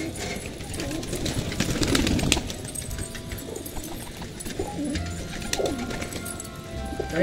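Pigeons coo and flutter their wings close by, with soft scattered calls and bursts of flapping over a steady background.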